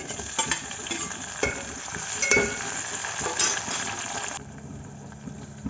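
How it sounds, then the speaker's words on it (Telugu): Tomato sizzles with cooked onions in a hot pan, a spoon scraping and clinking through the oily frying in close, irregular strokes before the sizzle settles into a softer steady hiss. "ఆనియన్ మగ్గింది ఇప్పుడు ఇందులోకి మనము ఒక చిన్న టమోటా వేసుకోవాలి"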